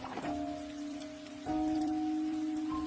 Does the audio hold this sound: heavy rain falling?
yes